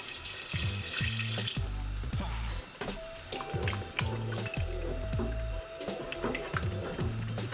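Water is poured into a cooking pot for a home-cooked Easter dinner, a splashing, trickling run of liquid heard close by over a steady low background beat.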